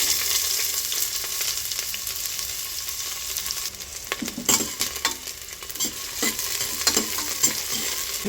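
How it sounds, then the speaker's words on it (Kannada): Chopped onion frying in oil in a pressure cooker, a steady bright sizzle with occasional stirring clinks and scrapes from a spoon, close and continuous with no talk. "ಘಮ ಬರೋ ಗಂಟ ಹುರ್ಕೊಳ್ಳಿ"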